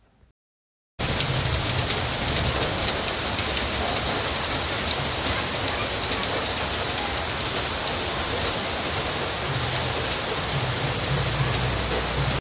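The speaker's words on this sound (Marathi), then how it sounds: "अचानक जोरदार पाऊस झाल्याने हवेत गारवा निर्माण झाल्याने नागरिकांना दिलासा." Heavy rain falling in a sudden downpour, a dense, steady hiss and patter that starts abruptly after a moment of near silence and continues unbroken and loud.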